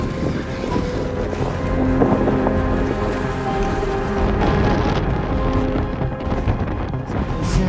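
Strong mountain wind on Mount Elbrus roars continuously, buffeting the microphone with a deep, rumbling rush that never lets up.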